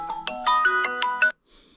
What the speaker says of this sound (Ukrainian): Так от, знову хто вже дзвонить.